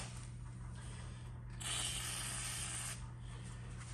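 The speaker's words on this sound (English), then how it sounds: "But what I've been using basically is just good old WD-40." WD-40 spray aimed at a rusty, stuck seat mechanism on a John Deere X320 lawn tractor, one steady hissing burst of about a second and a half in the middle, close up over a constant low hum.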